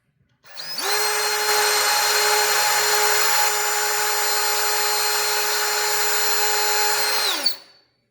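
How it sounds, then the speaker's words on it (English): A power drill bores into the door of a 1968–72 Chevelle or El Camino, giving one continuous high whine of about seven seconds that starts abruptly and cuts off cleanly, loud and close. "And I'm going to drill, baby drill, right there."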